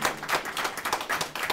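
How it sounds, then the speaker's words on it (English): A congregation at a church worship service applauds, with dense clapping that holds steady for a moment. "Give a round of applause"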